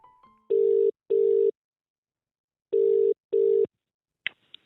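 A UK-style phone ringback tone sounds during a call, two double rings, each a pair of short loud electronic buzzes, separated by a pause, then a brief click as the line is answered.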